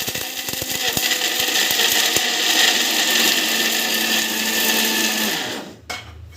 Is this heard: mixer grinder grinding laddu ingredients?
yes